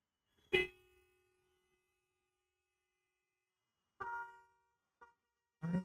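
Faint, scattered car horn toots from traffic: one short honk, then a pause of a few seconds before several more brief blasts in quick succession.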